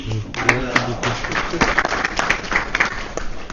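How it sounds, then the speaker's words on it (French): Applause rises from an audience at a formal public event for Mme Khalifa Khan, a dense run of clapping that keeps going throughout, with a voice briefly heard over it near the start. "je vous prie de l'applaudir"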